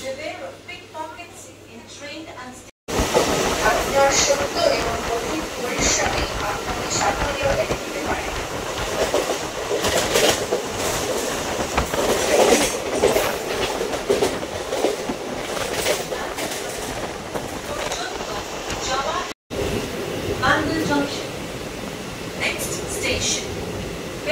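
A local train on the Howrah–Bandel line runs from Liluah towards Belur station, its wheels keeping up a steady, loud rhythmic clatter with rattling carriages, broken by two short cutoffs.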